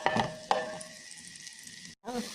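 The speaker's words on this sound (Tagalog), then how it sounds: "So, lagyan natin yung chicken wings." Chicken wings drop into a hot frying pan with garlic and burst into a loud, bright sizzle that holds steady for about two seconds, cuts out briefly, then resumes with a faint voice beneath.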